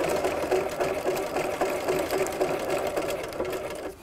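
A sewing machine runs continuously, stitching a seam in fabric, with a close, steady, rapid mechanical whir and needle chatter and no pauses.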